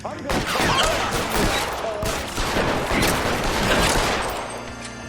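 Loud, dense gunfire in a shootout in the L.A. Noire video game, rapid overlapping shots crackling almost without pause for several seconds.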